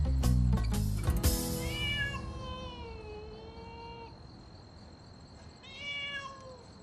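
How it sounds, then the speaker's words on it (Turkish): A cat meows several times in drawn-out, wavering calls, after a few sharp knocks at the start, with a faint steady hum in the background. "İçeriden kedi sesi geliyor."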